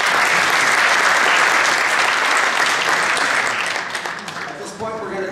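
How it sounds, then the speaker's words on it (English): Sustained clapping from a large audience, loud and dense at first, then thinning and fading toward the end. "Let's give them all a round of applause."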